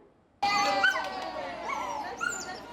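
A dog on a Taipei Metro pet-only train car whines and yelps in a high, wavering run of cries that starts abruptly and continues close and clear over a quiet background.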